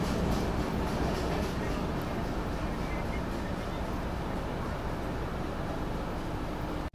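Indian Railways Mahabodhi Express overtaking, a loud, steady broadband rumble of rolling train wheels and rushing air held close throughout, cutting off abruptly at the very end.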